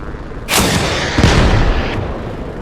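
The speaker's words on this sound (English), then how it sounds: "Vulcan just hit another nasty triple kill with that RPG." An RPG rocket blast in the Arma military video game, a sudden loud booming explosion followed by a second heavy crack and a rumbling decay, close and forceful with no talking.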